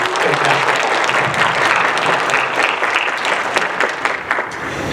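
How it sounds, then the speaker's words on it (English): An audience at a school board meeting claps in steady, close applause that fills the room for several seconds before gradually thinning out. "Can we get another round of applause for Ava?"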